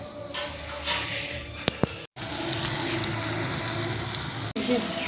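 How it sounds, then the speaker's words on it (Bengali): Mutton frying with onion and garlic in a pot gives a loud continuous sizzle close by, with a couple of sharp clicks and a brief break partway through, and no voices. "মটনটা বসিয়ে দিলাম পেঁয়াজ রসুন হচ্ছে"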